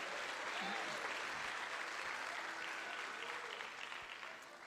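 A church congregation applauding during a Portuguese-language sermon, a broad, continuous roar of clapping in a large hall that slowly fades, with faint voices mixed underneath.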